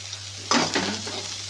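Sliced onions and fried peanuts being sautéed together in a pan for kanda poha, a soft sizzle broken by a couple of brief stirring scrapes around the middle.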